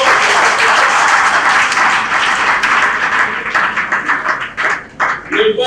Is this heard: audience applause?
yes